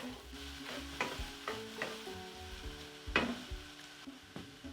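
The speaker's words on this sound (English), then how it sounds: "add a tablespoon of minced ginger and garlic. That's a tablespoon of each. And then just saute these to release their flavors" Minced ginger and garlic sauté with onions in a pan: a low sizzle broken by repeated spatula scrapes and knocks about once a second, one louder knock midway, no voices.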